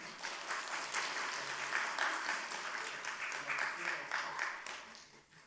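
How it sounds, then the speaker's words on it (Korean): A church congregation applauds steadily for several seconds during a Sunday service scholarship award, a dense wash of clapping that fades slightly at the end. "박수 쳐주세요"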